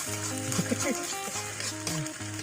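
Food sizzles and frying in a pan in a cave is stirred with scraping strokes, heard under a steady hiss while a person talks over it.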